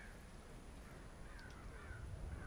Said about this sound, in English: Check out all the birds in the sky.